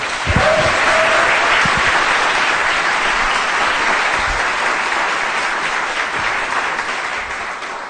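A lecture-hall audience applauding to welcome physicist Professor Sean Carroll, a loud, dense wash of clapping that holds steady for several seconds and tapers slightly at the end.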